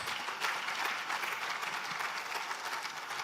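A crowd at a business summit and exhibition applauds steadily, a dense wash of clapping from many hands that holds at an even, moderate level for the whole stretch with no voices on top.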